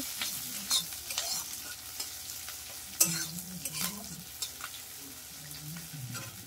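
Green chillies and spices frying in a pan for khichuri, a soft sizzle broken by scattered stirring scrapes and knocks of the spoon against the pan.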